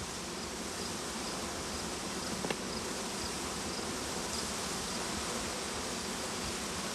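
Honeybees buzzing around an open beehive, a steady, dense, close hum that carries on without a break, with no voices.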